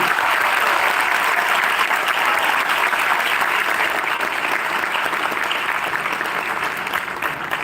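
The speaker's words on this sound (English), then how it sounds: "let's all celebrate India's success on landing on the moon with a thundering applause" Thundering applause from a university lecture audience celebrating India's moon landing, a dense, even roar of clapping that stays loud and steady throughout.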